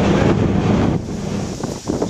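Ocean surf with big waves off Block Island heard from a ferry dock, a loud continuous roar and wash heavily buffeted by wind on the microphone.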